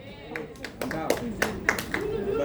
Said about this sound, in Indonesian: Nih, tepuk tangan nih